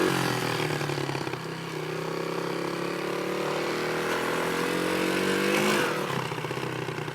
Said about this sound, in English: I tried one hand riding a dirt bike while recording myself on the iPhone